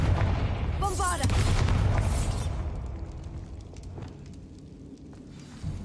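Bombarda explosion spell in the Hogwarts Legacy game, a loud booming blast with crackling debris that fades into a low rumbling tail, with brief spell-casting sounds at the start.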